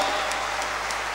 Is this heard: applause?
yes